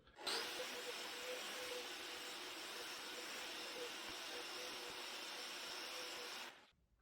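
A power sander grinds textured plaster off a ceiling, one continuous loud whirring drone that starts abruptly, holds steady for about six seconds, then cuts off.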